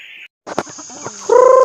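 Close chicken clucks and squawks, a short burst of calls ending in a drawn-out harmonic cry.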